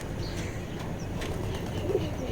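Wild pigeons at a rooftop nest give a soft, low coo amid faint chirps, set against steady outdoor background noise.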